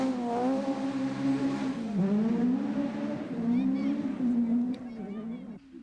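A 1977 Lombard-RAC Rally car flies over a forest stage, its engine note climbing and falling steadily through gear changes, loud and sustained, with a commentator's voice running over it.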